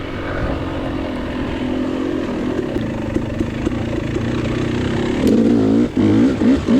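A KTM dirt bike engine revs hard during a muddy hare scramble race, a close, steady buzzing drone that surges louder with rising and falling throttle toward the end.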